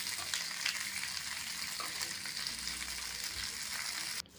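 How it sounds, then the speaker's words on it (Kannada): Tomato frying in oil in a pan, a steady close hiss of sizzling with faint stirring scrapes, moderately quiet and continuous, ending in a brief clunk. "ಇದನ್ನು ಕೂಡ ನಾವು ಫ್ರೈ ಮಾಡ್ಕೊಳ್ಳೋಣ ಎಣ್ಣೆ ಒಳಗಡೆ."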